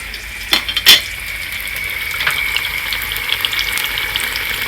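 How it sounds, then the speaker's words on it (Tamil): Radish masala vadas fry in hot, bubbling oil with a continuous crackling sizzle, broken early on by a couple of sharp utensil clinks against the pan. "அந்த எண்ணெய் படபடன்னு நுறையா வருது பாருங்கள்"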